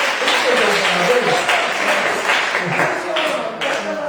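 Church congregation clapping their hands together in a dense, steady wash of applause, loud and continuous, with voices mixed in beneath.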